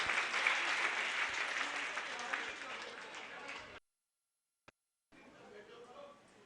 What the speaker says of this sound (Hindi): ये एक बार इनके लिए जोरदार तालियां